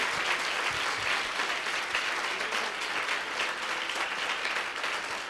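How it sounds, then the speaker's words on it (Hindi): Church congregation at a Hindi-language service clapping loudly in praise, a dense sustained round of applause filling the room without pause, no talking over it. "जोर से ताली बजा के प्रभु की स्तुति"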